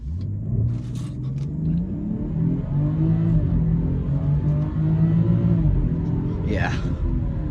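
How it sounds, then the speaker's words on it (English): A BMW 540i xDrive accelerates hard from a standstill toward 60 mph with traction control off. The engine drone climbs steadily in pitch under a constant road rumble, heard from inside the car. "I'm going to turn off the traction, and we're going to see if we can do a quick 0 to 60."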